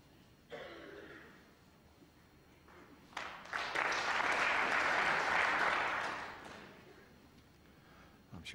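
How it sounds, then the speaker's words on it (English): Snooker crowd at the Wembley Conference Centre applauding during a 2001 Masters quarter final, a swelling round of clapping that rises to a loud peak before fading back to scattered claps, with some murmuring beneath. "Generous round of applause"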